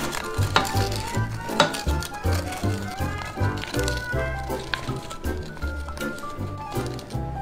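Blueberry pie filling mixed with lemon juice and salt, stirred steadily by hand: close, wet squishing strokes repeat in a regular rhythm, with faint clinks against the bowl or pot.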